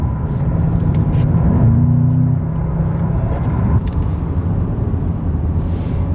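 A Bentley Continental GT V8 Mulliner pulls away hard, its engine giving a loud, steady low rumble that rises briefly in pitch before settling, heard from inside the car with no talk.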